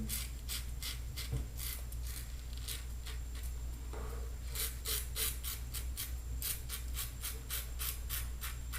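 A razor scrapes against the grain on a lathered face in quick, closely spaced rasping strokes, near and distinct over a low steady background hum, with a brief pause midway.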